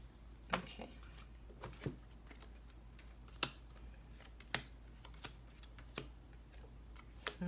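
Soft, irregular riffling and tapping of tarot cards being shuffled by hand, a few sharper snaps among quiet handling, with faint background hum.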